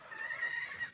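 Decorative chickens give a brief, faint clucking call, a single short burst with no one speaking.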